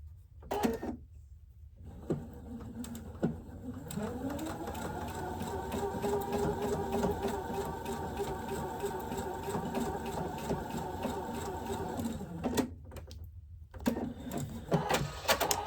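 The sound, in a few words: sewing machine stitching quilt block seam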